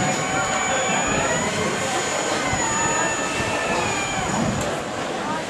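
The Westpac rescue helicopter hovers during a winching demonstration, its loud, steady turbine roar and rotor wash filling the scene without pause.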